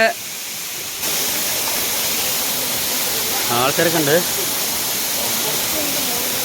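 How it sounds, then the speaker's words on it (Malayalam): Steady broadband rush of a waterfall at Vellarimedu, Kollengode, Palakkad fills the scene, with people talking nearby over it. "എത്തിപ്പോയി, വെള്ളച്ചാട്ടം എത്തിപ്പോയി"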